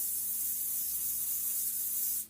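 Cooking spray hissing from an aerosol can into a buttered pan for an omelet, one steady continuous burst lasting about two seconds before cutting off abruptly, close and fairly loud with no talking.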